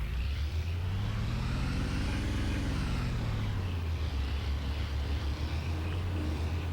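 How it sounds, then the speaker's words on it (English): A tractor engine drives in Farming Simulator 25, a steady close drone that rises and falls in pitch as it revs up and settles. "I didn't want to drive my tractor all the way down here just to hook that up."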